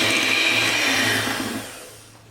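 Electric mixer beating cake batter with a splash of milk added, a steady close whirring drone that holds level and then tapers off toward the end.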